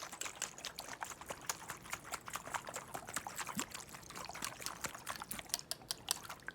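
Water poured into a glass in a close, quiet ASMR setting: a soft, steady trickle with many small splashy ticks running throughout the whole stretch.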